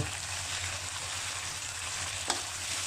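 Pork belly stir-fried with shrimp paste and kaffir lime leaves in a hot pan, a steady dense sizzle throughout with one brief clack of a spatula late on.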